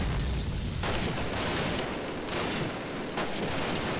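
Sniper rifle gunfire in a Call of Duty game, loud sharp blasts over a dense battle din of shots and explosions, with a few distinct cracks standing out near the start, middle and end.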